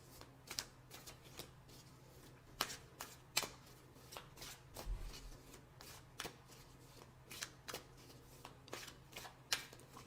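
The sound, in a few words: tarot cards being shuffled and picked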